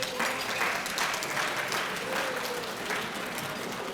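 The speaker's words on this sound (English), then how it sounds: "so let's give your parents a round of applause" Audience applause for parents fills a school academic excellence banquet hall, a dense, even wash of clapping with some crowd murmur, sustained throughout.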